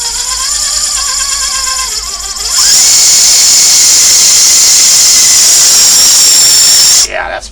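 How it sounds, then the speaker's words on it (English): A Redcat Gen7 RC car's freshly swapped electric motor runs steadily with the tire spinning, a loud continuous high whine that rises and holds for several seconds before cutting off, after a quieter lower-pitched start. "That motor is way quieter than the one I had in it."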